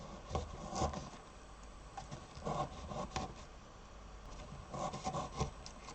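A sharp knife trims the edges of a model in repeated soft scraping strokes, close and fairly quiet, coming in short rhythmic clusters over a low steady background hum.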